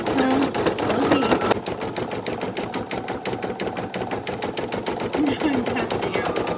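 An embroidery machine stitching multicolor thread onto a T-shirt, giving a fast, steady mechanical chatter of needle strokes that runs loud and unbroken throughout, with a brief shift in its rhythm partway through.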